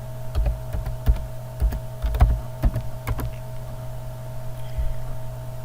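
Irregular keystrokes on a computer keyboard, close and fairly soft, in short bursts with pauses, over a steady electrical hum.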